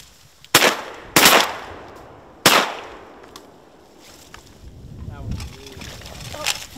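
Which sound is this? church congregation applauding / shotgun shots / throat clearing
shotgun shots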